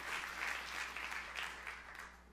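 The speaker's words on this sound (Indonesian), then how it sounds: "Tepuk tangan yang meriah untuk kamu lihat Tuhan." A church congregation bursts into warm applause, a steady dense clapping that sounds slightly distant and fills the short moment without any voices.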